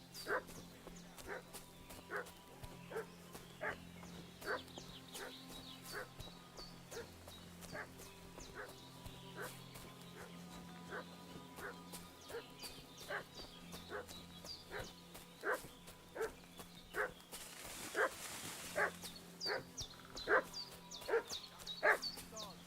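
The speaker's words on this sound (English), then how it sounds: "What's that dog making such a fuss about?" A dog in the medieval video game Kingdom Come: Deliverance 2 barks persistently in a steady, rapid rhythm, moderately distant, with a few yips and whimpers over a low ambient background.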